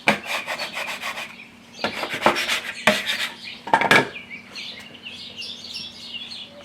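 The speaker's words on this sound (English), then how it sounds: "And just work the dough." Fresh pasta dough being kneaded by hand, heard as repeated soft rubbing and slapping bursts in uneven rhythm, close and moderately loud, with faint background bird chirps.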